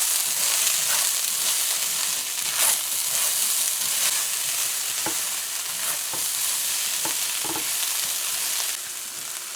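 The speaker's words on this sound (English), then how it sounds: "Give that a good mix again." Five spice fried rice sizzling and being stirred in a pan, a steady loud frying hiss with scattered scraping clicks from the utensil throughout.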